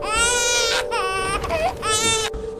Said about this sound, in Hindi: बच्चे के रोने की आवाजें आती हैं।